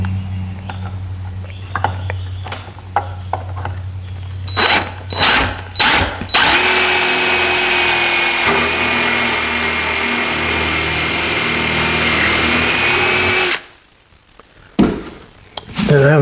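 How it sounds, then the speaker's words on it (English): A power drill whirs steadily into wood for several seconds after a few short starts and knocks, loud and close, then cuts off. "First thing I'm doing is drilling way into the wood."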